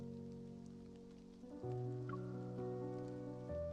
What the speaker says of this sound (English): The sound of rain becomes the perfect companion to the song.